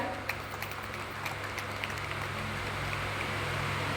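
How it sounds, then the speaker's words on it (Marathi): Sustained applause from an audience at a state-level award ceremony honouring a man called Nana, a dense, steady patter of many clapping hands that holds at an even level throughout. "खरं तर नानांसाठी एकदा जोरदार टाळ्या होऊ द्या"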